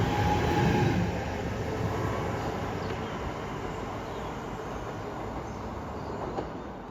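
A British Rail Class 323 electric train departs Wilmslow station for Manchester Piccadilly with a steady, moderately distant rumble of wheels and motors that slowly fades.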